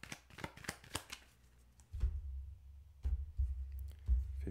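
Tarot cards riffled and flicked for a cross-shaped spread, a quick run of crisp papery snaps over the first two seconds, then duller soft thumps and low handling noises, close and fairly quiet.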